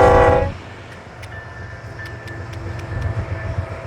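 A Union Pacific coal train rolls past in Wyoming's Powder River Basin, a steady low rumble of cars with faint squealing tones, loud and continuous after a brief louder opening burst.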